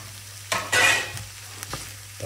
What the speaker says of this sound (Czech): Tak zase to zamíchám.